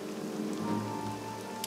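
Steady rain patters in the video game Morrowind, a dense, even hiss of drops that holds at a constant level throughout, with no voices.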